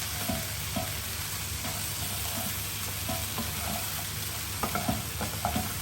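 Courgettes being mixed into a vegetable fritter batter in a bowl, heard as steady wet stirring and soft scraping over a constant background hiss, with no voices.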